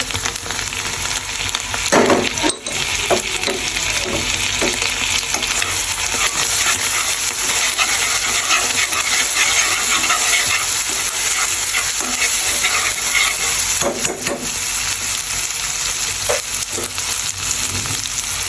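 Ginger, garlic and chili paste fry in a pan for veggie egg chow mein, a loud steady sizzle lasting throughout, with occasional stirring scrapes and light clinks of a utensil against the pan, and no speech.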